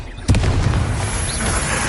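A Confringo blasting curse explodes in Hogwarts Legacy, one sharp booming burst that rings out and decays into rumbling noise.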